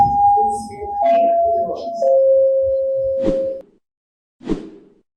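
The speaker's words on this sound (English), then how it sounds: "Let me hit you the chimes real quick if I can find them." Chime sound effect played on a talk show, a sustained tone stepping down through three descending pitches, followed by two short sharp knocks, with voices murmuring underneath at the start.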